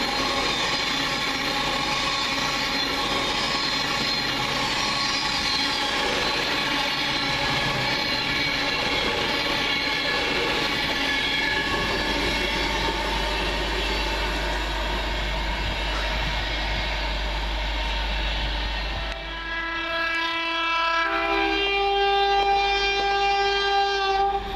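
A train rolls through Coseley station behind a slower local service, with a loud, steady rail rumble for about twenty seconds, then a sustained horn blast near the end.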